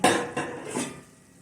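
A spoon scrapes and knocks inside a pan while potato and cauliflower curry is mixed with freshly chopped coriander, giving a few close, loud metallic strokes that fade out within a second and a half.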